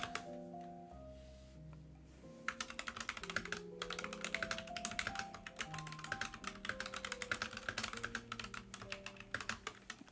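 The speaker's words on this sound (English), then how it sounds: "my keyboard has a different noise." Rapid, close keyboard typing with dense clicking taps over a soft sustained musical tone.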